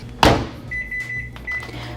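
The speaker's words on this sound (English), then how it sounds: "throw it into the microwave for 90 seconds or 1 minute and 30 seconds" Microwave oven heating a keto jalapeño cheese bread mix: a sharp thump of the door or button press, then the steady hum of the running oven with a faint high whine, close by.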